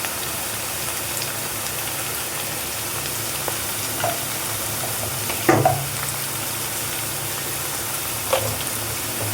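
Fish head curry frying with spices in a pan: a loud, constant close sizzle with a few faint stirring clicks and one brief sharper scrape, with no talk.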